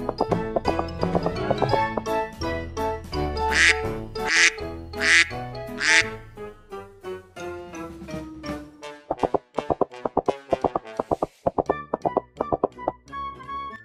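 Four loud duck quacks in a row over a busy background of children's song music, with tapping sounds following.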